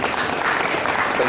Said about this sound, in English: A round of applause for Melissa, please.